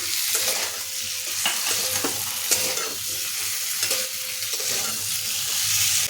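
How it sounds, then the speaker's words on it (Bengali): Pointed gourd with potato and taro stir-fried in a pan, a steady close crackling sizzle with repeated scraping stir strokes throughout, no talking. "এখন ভেজে রাখা পটলগুলো এর মধ্যে দিয়ে আরও কিছুক্ষণ কষিয়ে নেব"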